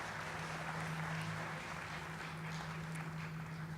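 An audience at a mushaira poetry gathering in Doha keeps up steady, dense applause, a wash of clapping heard at a distance under a low hum.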